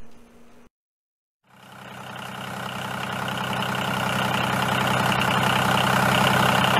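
A small homemade toy tractor's electric motor, built from a water-pump-style motor, starts after a moment of silence, then settles into a steady, close, buzzing whir that grows slightly louder.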